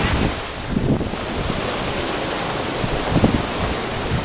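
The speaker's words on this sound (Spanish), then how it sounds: "Nos deleitamos unos momentos con la bajada del agua por el cañón" Water rushes down the Alagón river canyon in the Garganta de los Infiernos gorge as a loud, steady roar of whitewater, with broadband noise and gusty wind buffeting the microphone.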